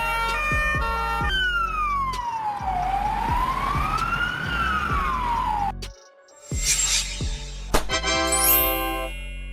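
A Polish ambulance siren wails in slow rising and falling sweeps, loud and close, then cuts out briefly and resumes with shorter, higher-pitched tones.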